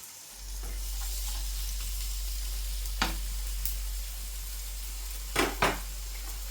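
Beef burgers sizzle in hot fat in a pan, a steady close hiss with a low hum beneath and a few sharp utensil taps near the middle and end, no speech.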